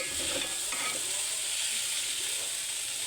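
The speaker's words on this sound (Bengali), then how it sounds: "ভালোভাবে এখন ভেজে নেবো" Vegetable bhaji sizzles and fries steadily in a pan, with a continuous loud hiss and some stirring scrapes near the start.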